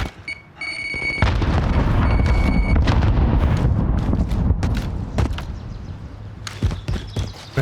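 Grenade blast in an online shooter game: a loud, heavy explosion roars and rumbles for several seconds, overlaid by a few beeping tones and scattered crackles.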